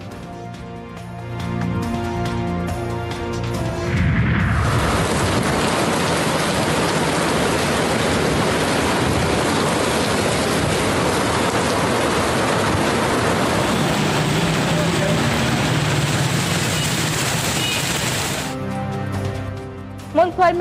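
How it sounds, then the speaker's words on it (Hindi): Heavy monsoon rain in Karachi during urban flooding, a dense, loud, steady roar of downpour lasting well over ten seconds, with music and a voice briefly heard at the start and end. "पंजाब, बलूचिस्तान समेत मुल्क के कई हिस्सों में बादल जमकर बरसे"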